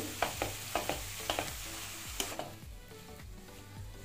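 Potato bonda stuffing is stirred in a pan on a gas stove, with sharp spatula scrapes and clicks in an uneven rhythm over a soft sizzle and no voices.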